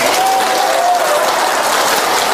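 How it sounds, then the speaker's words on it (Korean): Listeners at a Buddhist dharma talk clap together for a monk. The clapping is a brief, dense and steady burst that stays loud throughout. "그래서 스님이 여러분들께 그냥 드리는데 박수 정도는 크게 한번 쳐주셔야 됩니다"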